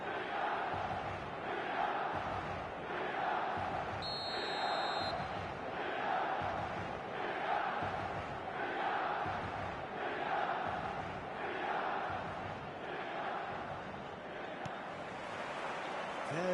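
Stadium crowd in an eFootball match roars and chants in a steady, dense wash of cheering that swells and falls in rhythm across the whole stretch, loud and continuous.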